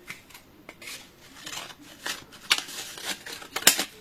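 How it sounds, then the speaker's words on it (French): Scissors snipping through paper, a series of short, crisp cuts in an irregular rhythm, close and fairly quiet, with no talking. "Donc déjà, dans un premier temps, je sépare en deux. Ok, donc on va prendre le ciseau."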